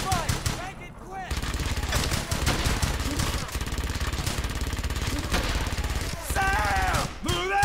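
Dense, continuous gunfire and bursts of automatic weapons crackle through a WWII battle in the video game Brothers in Arms: Hell's Highway, loud and sustained, with shouted voices mixed in.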